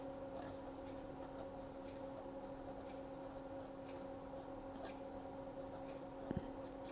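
A stub-nib fountain pen inked with Akkerman Gourmet Pink scratches steadily across paper, a faint, close, continuous rasp of strokes over a low steady hum.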